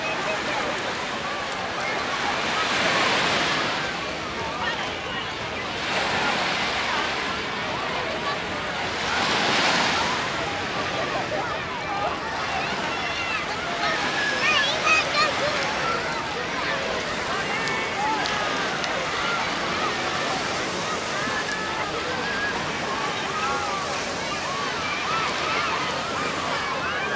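Surf rolls in on a busy beach at Venice Lido, Italy, with waves swelling and breaking in slow repeating surges, steady wind noise over the microphone and faint voices in the background.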